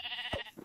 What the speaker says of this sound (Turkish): Burada koyun var.